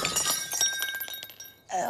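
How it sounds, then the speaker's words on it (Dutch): Drinking glasses dropped during a TV game show task: bright glassy clinks and a scattered shatter of pieces, followed by a short lull and a renewed clatter, fairly close with some background noise. "En omdat ze de glazen heeft laten vallen."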